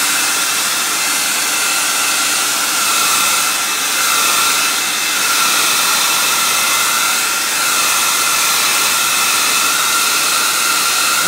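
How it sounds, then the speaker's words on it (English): A hair dryer on its hot setting blows steadily and loudly at a vintage speaker grill, making a continuous broadband whoosh for the whole stretch with only slight swells in level and no talking. "So I got a hair dryer."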